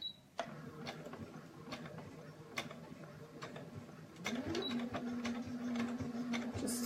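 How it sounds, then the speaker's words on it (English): A domestic sewing machine back stitches across pillowcase fabric, a soft rhythmic mechanical ticking that builds into a steadier whirring hum of stitching near the end, fairly quiet, with no talking. "And then I'm going to back stitch at the top too"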